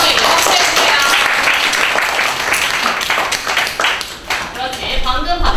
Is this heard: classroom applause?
yes